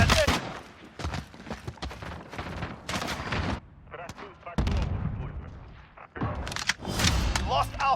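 Gunfire and explosions from the Modern Warfare beta on PS4, a chaotic mix of loud bursts, thuds and distant shots, mixed with voices over the combat.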